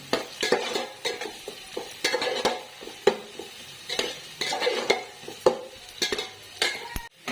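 Onions for jackfruit biryani fry in a pan while a spoon stirs them, repeated rhythmic scraping strokes against the metal over a soft sizzle, close by with no talking.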